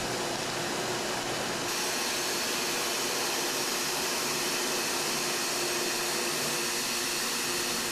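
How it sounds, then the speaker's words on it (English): An elastomer thermo cutter slicing a one-inch rubber strip from a roller at about thirty feet per minute, a steady broad hissing drone, loud and unbroken, with a slight shift early on. "The strip is 1 inch wide and is being cut at a rate of around 30 feet per minute."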